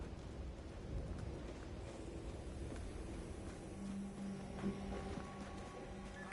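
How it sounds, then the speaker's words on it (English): A storm rolls in within Unknown 9: Awakening, a low continuous rumble of distant thunder with a faint rain-like wash and a soft tonal hum beneath. "An incoming storm."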